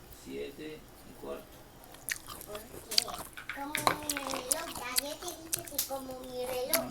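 Crunchy fruit from a platter of grapes, apricot, banana, green apple and kiwi is bitten and chewed close up, with crisp crunches scattered among a child's chatter.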